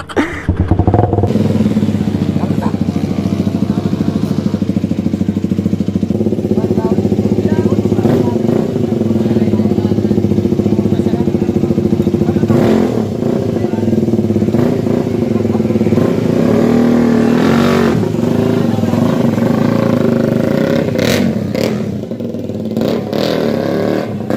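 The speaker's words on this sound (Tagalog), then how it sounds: "Isang tunay na race bike." An Aprilia RS150 race motorcycle on a track, its engine loud and continuous with rising and falling revs and gear changes, while a rider's voice and whoops come through.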